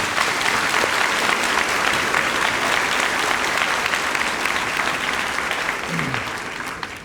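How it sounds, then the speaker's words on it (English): A graduation audience at the 2016 Clark Shaw ceremony claps in a loud, dense, sustained round of applause that fills the whole stretch and tapers slightly at the end. "Give them a round of applause."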